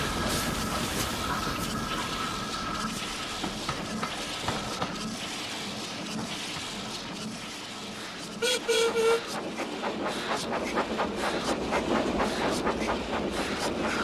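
A train rumbles and clatters along the tracks with rhythmic clicking, and a short whistle toot cuts through midway.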